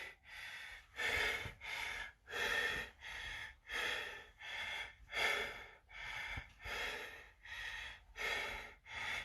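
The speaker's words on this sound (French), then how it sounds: "Hyperventilation, ouais, c'est pour ça qu'il faut contrôler sa respiration." Heavy, rapid breathing after a hard cardio workout, with about a dozen loud, rhythmic breaths in and out at close range and no speech.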